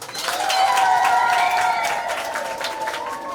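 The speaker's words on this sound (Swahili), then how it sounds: "Asanteni, makofi na vigelegele." A church audience claps and ululates together after a birthday song for trees, the sustained clapping joined by high trilling cries that hold steady for several seconds and fill the room.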